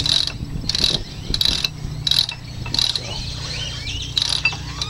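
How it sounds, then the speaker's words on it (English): A serviced Barient 28 primary winch on a sailboat spins freely, giving a repeated ratcheting click in regular bursts of pawl chatter, close and clear with no talking. "that winch is turning freely"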